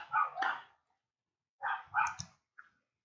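A dog in the video game Oblivion barks in two short clusters of sharp barks separated by a pause, clear and fairly close, with no talk over them.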